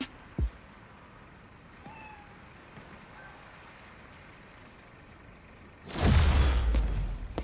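A bodega cat meows softly a few times in Marvel's Spider-Man: Miles Morales amid quiet city ambience, then a loud, sustained rumbling roar takes over near the end.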